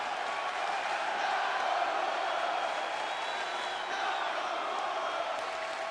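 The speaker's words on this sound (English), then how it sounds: "This crowd chanting for Nakamura" A large arena crowd in the WWE 2K16 wrestling game keeps up a steady, dense roar of chanting for Nakamura, broad and continuous across the whole stretch with no voices standing out.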